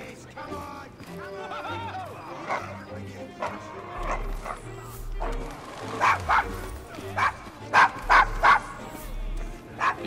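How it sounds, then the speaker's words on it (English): A dog in the Devil's Acre district of Victorian London in Assassin's Creed Syndicate gives repeated yips and short barks with whimpering, moderately loud, heard under people talking and background game ambience. "Is your dog quite all right?"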